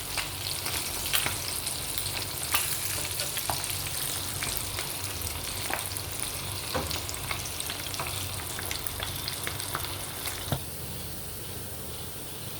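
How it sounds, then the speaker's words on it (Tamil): Fish frying Sri Lankan style in a pan over low heat, a steady close crackling sizzle with sharper pops and occasional stirring scrapes, running continuously with no voices. "மீனில் கொஞ்சம் நாங்கள் கிளறி விட்டு மறுபக்கமாக பொரிய விடலாம்."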